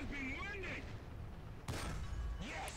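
A single sharp cannon shot from a Panzer III Ausf. E tank in War Thunder bursts out midway, over a low engine rumble with game sounds before and after.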